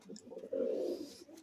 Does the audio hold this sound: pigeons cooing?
yes